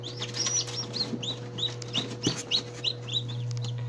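Newly hatched chicks peep in quick, high repeated calls, close and fairly clear over a steady low hum, with no talking.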